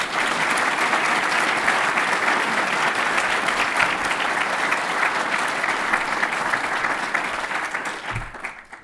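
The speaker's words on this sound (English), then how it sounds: "I know you just applauded" Applause from an audience at a space science event at a physics laboratory, a loud, sustained crowd clapping that stays even throughout and tapers off near the end.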